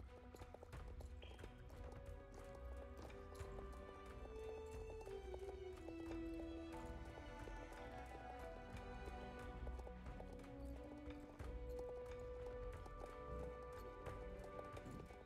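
A horse in the Star Stable video game gallops with quick, rhythmic clip-clopping hoofbeats throughout, soft and steady beneath sustained background music tones.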